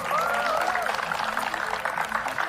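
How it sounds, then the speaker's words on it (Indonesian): Applause from an audience at a magic show, a steady dense patter of many hands at moderate distance with a faint musical tone at the start. "Tepuk tangan dulu untuk teman-teman."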